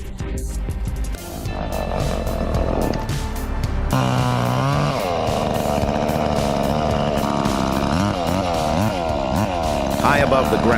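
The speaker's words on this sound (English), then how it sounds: "High above the ground, a man fearlessly tackles a tree, chainsaw in hand" A chainsaw cuts into a big tree, high above the ground, with a loud, steady engine whine that rises and falls under music and possible voices, continuous throughout.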